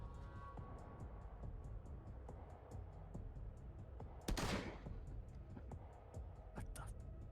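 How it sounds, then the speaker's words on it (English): Gunfire in Wasteland 3 cracks through a quiet scene, with one loud sharp shotgun blast in the middle and smaller scattered shots around it, moderately close. "You're shooting a shotgun, right?"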